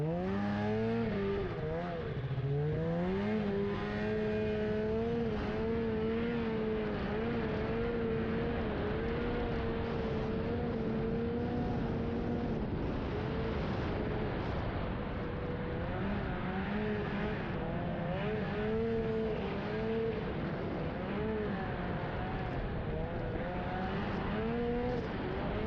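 A snowmobile rides through snowy roadside ditches after a Minnesota snowstorm, its engine close and continuous, rising and falling in pitch as the throttle changes throughout.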